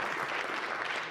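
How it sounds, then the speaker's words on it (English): A crowd at an event applauding, dense steady clapping throughout the short moment. "Big round of applause for MVP Advanced."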